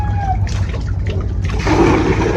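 Water splashes and gurgles at a well at a mineral shrine in Batangas, a steady trickle that swells into a louder, rushing pour near the end.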